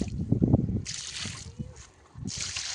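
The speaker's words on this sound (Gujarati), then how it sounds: "ગુલાબને પાણી પાઈ દઈએ।" Water poured onto a rose plant in a rainy farm garden, two bursts of splashing and trickling, with a voice talking before and between them.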